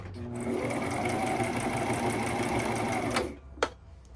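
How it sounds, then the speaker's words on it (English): A sewing machine runs steadily for about three seconds, stitching forward and then backstitching, before stopping with a couple of sharp clicks. "we stitch a little bit forward and then we're going to stitch back"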